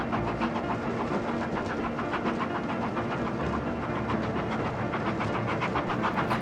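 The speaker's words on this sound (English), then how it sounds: "The two engines departed their ways, and Thompson prepared for the climb up to Blighting." Steam engines on a railway chug and clatter as they pull away, with rhythmic wheel beats and a steady rumbling drone, loud and continuous throughout.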